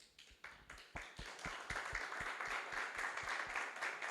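A church congregation breaks into applause, starting with a few scattered claps that quickly swell into steady, fairly distant clapping from many people.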